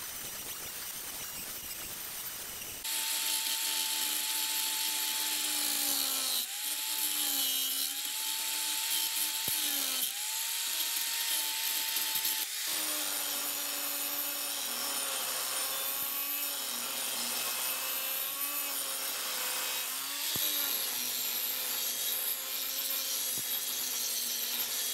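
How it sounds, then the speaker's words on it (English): A thick grinding disc grinding an aluminium motorcycle rearset bracket for a Yamaha XS650, with a steady, loud, continuous abrasive whine and scraping that shifts pitch as pressure changes, running alone after a brief quiet start. "I can use it to grind off the aluminium."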